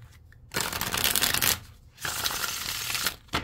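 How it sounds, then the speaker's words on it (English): A tarot card deck being shuffled, with close, crisp riffling bursts in two long passes separated by brief pauses and light handling noises. "let me just grab a card from my other deck here"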